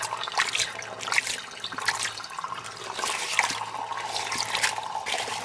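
Water trickles and splashes steadily through the first strainer screen of a gravity-feed water filter outdoors, a continuous close rushing flow with small gurgling bursts and no talk.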